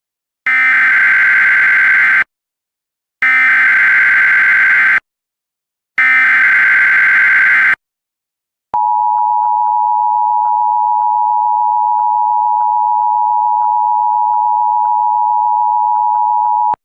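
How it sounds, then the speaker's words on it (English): Emergency Alert System emergency action notification: three loud, buzzy data bursts with short gaps, then a long, steady electronic attention tone held alone at high volume, with no voices. "This is an emergency action notification requested by the White House."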